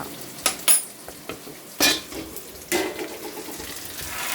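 Onion, cumin, tamarind and dried chillies roast in a pan under a low crackling sizzle, with a few loud metallic scrapes and clinks of a spoon stirring against the pan.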